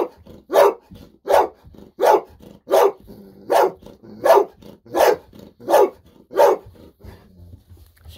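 A golden retriever barks loudly and close by, about ten sharp barks in a steady, evenly spaced rhythm, then falls quiet near the end.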